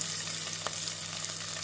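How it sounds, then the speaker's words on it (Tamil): Steady sizzling as ginger garlic paste and green chillies fry in a hot pan, a constant crackle with a faint stir or scrape partway through, no voices. "இஞ்சி பூண்டு விழுது சேர்த்து நன்றாக வதக்க வேண்டும்"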